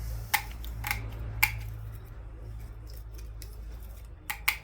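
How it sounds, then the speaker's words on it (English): Metal snips make sharp, distinct cuts along a marked line while building a succulent planter, with about five crisp snips spaced unevenly over a few seconds. The cuts are close and clear over a faint steady low hum. "We'll get some snips, cut along that line."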